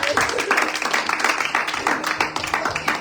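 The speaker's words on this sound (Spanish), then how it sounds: "Un aplauso al Señor." A church congregation applauds the Lord in a short burst of lively clapping, many hands beating in a quick uneven rhythm, fairly close and loud, with voices mixed in.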